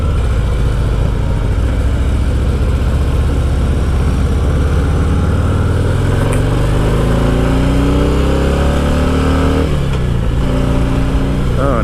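A Harley Heritage 114 cruiser motorcycle engine pulls hard during a throttle roll-on, a loud, close, steady roar with rising pitch and wind rush that builds over several seconds, then shifts briefly and climbs again.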